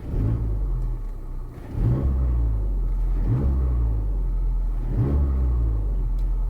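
A stationary car engine revs repeatedly during heel-and-toe practice, four rhythmic blips rising from a steady low idle rumble, close and loud with no talking.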